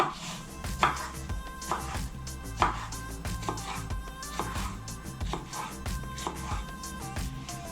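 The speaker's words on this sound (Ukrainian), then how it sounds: "Огірочки нарізаю соломкою." A knife slices pickled cucumbers into strips on a cutting board, rhythmic steady firm strokes close up, with no talking.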